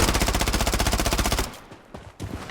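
Rapid automatic gunfire from the Blood Strike shooter game, a fast steady burst of loud close shots for about a second and a half, then quieter scattered impacts and a couple of sharper pops.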